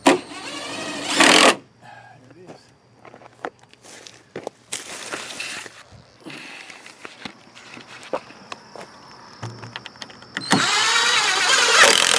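Long screws being driven into wood while a goat house is built, with a power driver whirring in short bursts near the start, middle and end, separated by quieter stretches of handling noise.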